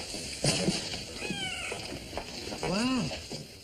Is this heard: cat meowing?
yes